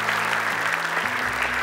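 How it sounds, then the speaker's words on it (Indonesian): Studio audience at the Hafiz Indonesia 2018 Quran recitation competition claps steadily, a dense even round of applause with a low musical drone beneath. "tepuk tangan dulu untuk komentar yang diberikan oleh Syekh Ali Jaber"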